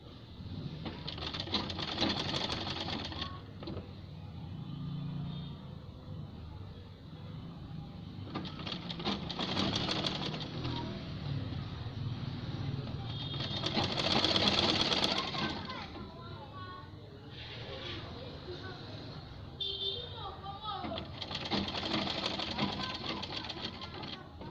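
Sewing machine stitching fabric gloves, several bursts of rapid mechanical whirring and chattering separated by pauses, fairly quiet and close, with a person talking throughout.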